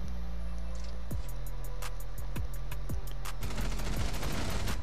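Rapid gunfire in a Rainbow Six Siege ranked match, a loud steady stream of repeated shots with several sharp bursts, growing denser and more chaotic toward the end, with no talking.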